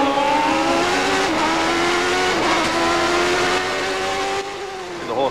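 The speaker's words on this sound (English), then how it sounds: "The horsepower of that McLaren, John" A 1990 McLaren Formula One car's engine screams past during the Canadian Grand Prix in Montreal, a loud, high-revving continuous whine with gear-shift dips that recedes in the final second.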